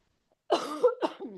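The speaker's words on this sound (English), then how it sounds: "Pardon me, I'm going to cough." A single rough cough from one person, close and fairly loud, breaking into a couple of harsh bursts and trailing off after a moment of silence.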